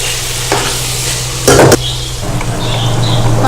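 Mixed vegetable sabzi stirred and frying in a pan, a steady close sizzle with a brief louder scrape of the spoon midway, no voices.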